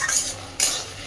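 Red spinach greens being stirred and fried dry in a pan, two brief loud scraping stir strokes over a faint sizzle, close up, without speech.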